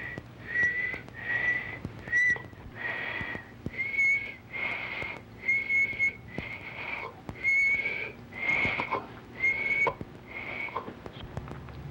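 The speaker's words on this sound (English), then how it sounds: "Now whistle for us." A man whistles a series of about ten short, bright notes in an even rhythm, each separated by brief pauses, close and clear in a quiet room during a palato-pharyngeal function test.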